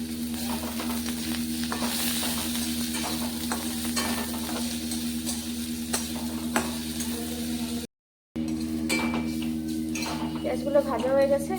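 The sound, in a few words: onions and chilies frying and being stirred in a pan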